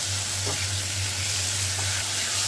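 Fried potatoes and spices stirred and cooked in a pan for a Bengali muri ghonto with fish head, a steady close sizzle of frying oil with faint scraping stirs, no voices.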